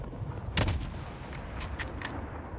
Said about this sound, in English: we had a couple mortars out there